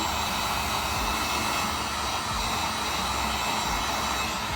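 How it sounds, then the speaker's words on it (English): A heat gun blasts hot air onto a plastic headlight housing to soften it for opening, a steady, loud, broadband roar that holds constant with no pauses and no talk. "So I just get the heat gun and then just stick it to one side."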